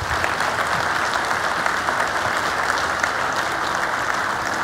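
An audience applauds steadily and densely throughout to honor the fallen on Memorial Day at a church service, the clapping loud and continuous with no talk over it.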